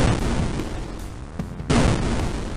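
Explosions in a video game set in a lost city, heard as heavy rumbling booms that merge into a dense, loud roar, with a brief dip midway before another blast swells back up, no talking.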